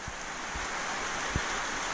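Steady rain falls over a village, a dense, even hiss of drops with a few soft low thumps, continuous throughout and with no voices.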